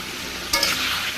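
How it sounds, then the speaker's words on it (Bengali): Ridge gourd sautés in a pan, a soft steady sizzle with one quick stirring scrape partway through, close and with no voices. "ভালো করে কষিয়ে নেবে ঝিঙে তো বেশি শক্ত সবজি না নরম সবজি"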